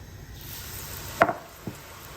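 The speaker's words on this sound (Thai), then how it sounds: "เราก็จะเอาขนมลงทอดเลยค่ะ" Thai dok jok rosette batter, coated on a metal mold dipped partway in, frying in hot oil: a steady close sizzle with a sharp splash and a smaller knock about half a second later.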